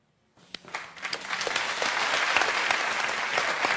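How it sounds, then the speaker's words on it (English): A Dr. Phil talk show studio audience bursts into applause after a brief silence, the clapping building quickly into steady, dense, sustained cheering-free handclaps. "You know why these people are clapping when you walk out?"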